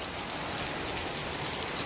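Rain falls steadily outside a greenhouse in Florida, an even, dense hiss of drops that stays constant and close throughout.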